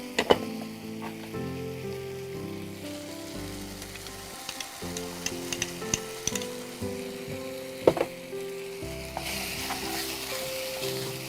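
Gravy frying in a pan as yogurt goes in, a continuous close sizzle with occasional sharper pops and stirring clatter, no talking.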